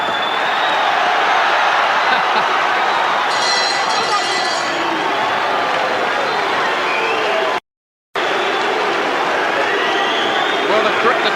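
Boxing arena crowd during a 2002 featherweight bout between Prince Naseem Hamed and Manuel Calvo, a steady loud roar and murmur of spectators with some rising cheers throughout, briefly cutting out near the end.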